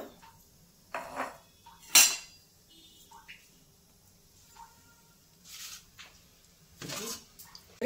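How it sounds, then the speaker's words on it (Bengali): A karahi pan with oil on a stove is handled, giving a few scattered metallic clinks and scrapes with quiet gaps between, close and moderately loud. "কড়াইতে আগে তেল দিয়ে দিলাম, কড়াইটা আগেই বসানো ছিল।"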